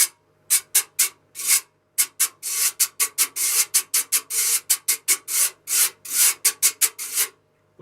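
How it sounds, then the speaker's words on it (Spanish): A güira, the scraped metal idiophone of bachata and cumbia, is raked in quick rhythmic strokes, a run of bright rasping scrapes in short bursts with brief pauses, close and clear with no talking. "Por ejemplo, la güira"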